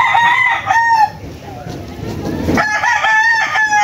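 A Lucky Gold gamefowl rooster crows loudly and close, one long cock-a-doodle-doo call followed after a brief pause by another crow, with faint background clucking.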